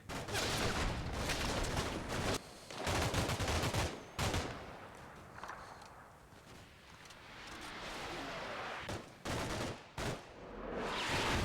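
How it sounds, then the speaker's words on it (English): Red Army artillery exploding in Combat Mission Cold War, with repeated loud booming blasts and rattling fire separated by short pauses, then a quieter rumbling stretch before more heavy bursts. "That stuff exploding, that's Red Army artillery."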